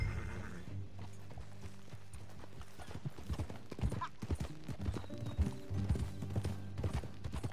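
Horses gallop in Red Dead Redemption 2, hooves clip-clopping in a quick, steady rhythm close by, with creaking tack and light mechanical clatter underneath.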